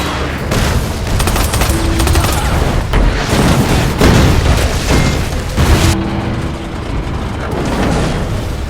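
Heavy artillery booms and rapid bursts of gunfire in a North Korea versus South Korea war scene, loud and continuous, with rumbling blasts repeating throughout.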